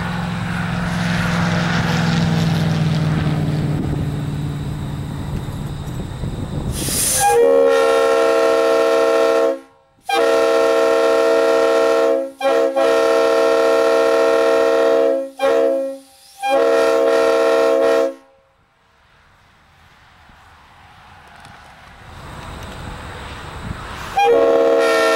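A Leslie RS3L train horn at Monticello blares in long, loud chord blasts from close by, with brief breaks between honks, after a rumbling approach and followed by quieter running noise.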